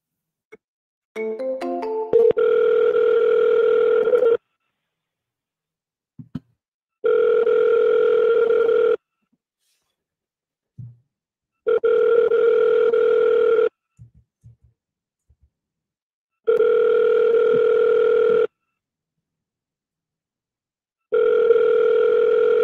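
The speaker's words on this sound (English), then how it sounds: "Okay, no answer. We'll double dial him." A phone call rings out unanswered and is redialed, with a short burst of dialing tones followed by a repeated ringback tone, even two-second pulses separated by silent gaps, clear and loud.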